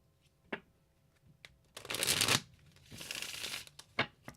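Cards being riffled and bridged, with two long rustling shuffles between sharp single snaps and taps, close and clear in a quiet room.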